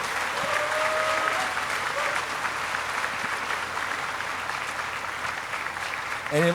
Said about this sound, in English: So we should give Matt a round of applause for saving our weekends.